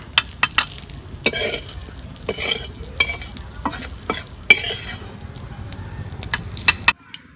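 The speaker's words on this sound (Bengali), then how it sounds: "গরম মশলা ভাজা হয়েছে তুলে নেবো" Whole garam masala spices with cumin dry-frying in a pan for a village-style fish curry, a steady low sizzle broken by sharp scraping and clinking stirs that come close and loud, then stop abruptly near the end.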